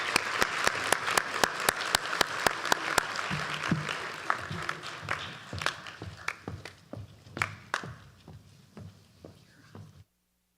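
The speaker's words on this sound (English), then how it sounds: "Let's give them a round of applause." Applause at a Rotary EarlyAct and Interact club induction ceremony, a small group clapping in a brisk, loud rhythm that gradually thins into sparse, scattered claps before stopping.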